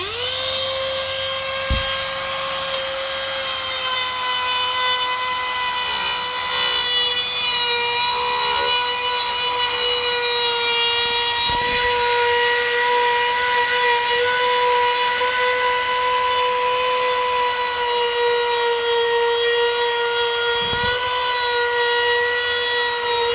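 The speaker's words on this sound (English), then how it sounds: "we're gonna use this Dremel, make it a little bit bigger all the way around" A Dremel rotary tool enlarging a cutout for a vented crawlspace cover, whining at a steady high pitch for the whole stretch, loud and close, with a few brief bumps as the bit catches.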